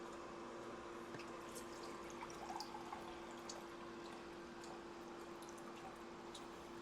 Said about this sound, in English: And then what we're going to also do is add some water.